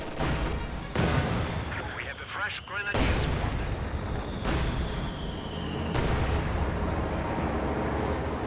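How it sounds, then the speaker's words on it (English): Mortar fire and explosions in a tank-and-infantry war video game: about four heavy blasts land a second or two apart. Each one is a sharp, loud crack followed by rumbling debris and steady battle noise. "Mortar fire destroys another demo charge there in the middle"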